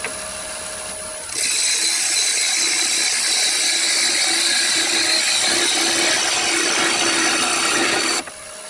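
A scraper smooths the ridges inside a cherry wood bowl spinning on a lathe, producing a loud, even rasping hiss that starts abruptly and cuts off after several seconds over the lathe's quieter hum.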